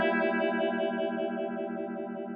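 An electric guitar sustains a long chord through a phaser pedal, its tone sweeping slowly and steadily with a swirling, slightly distorted character, loud and close and without talk.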